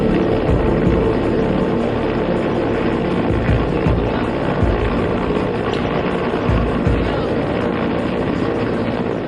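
Air Force helicopter hovering over the raging Tawi River in Jammu during a rescue of stranded fishermen, a steady loud rotor roar with rushing water beneath, continuous throughout.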